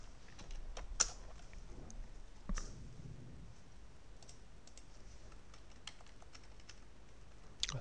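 Quiet typing on a computer keyboard, entering short code with letters and equals signs, heard as scattered soft key clicks and a few sharper taps with no talk.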